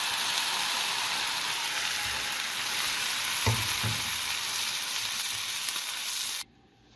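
Onion fries in hot oil with a steady, dense sizzle throughout, broken by a few soft stirring knocks midway, before the sound cuts off abruptly just before the end.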